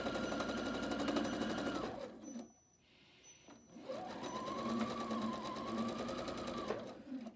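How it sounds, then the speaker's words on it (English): A sewing machine stitches quilt corner triangles onto an octagon block end to end, running in a loud steady whir, pausing briefly for about a second and a half, then starting up again and running on. "You're just sewing from end to end."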